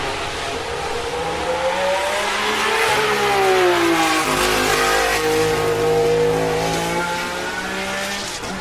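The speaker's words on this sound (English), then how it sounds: "That Ferrari, it had that convoluted exhaust tubing." A late-1960s/early-1970s Ferrari 312BB racing car with convoluted exhaust tubing revs loudly and close, its engine note climbing, dipping and climbing again in a continuous, sustained pass with no talk.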